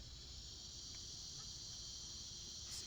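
Cicadas drone in a continuous, steady high buzz that holds evenly throughout, with low background rumble beneath and no clear talking.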